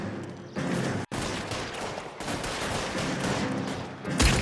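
Gunfire in the video game L.A. Noire during a police shootout, a dense loud burst of shots running almost continuously with a brief break about a second in.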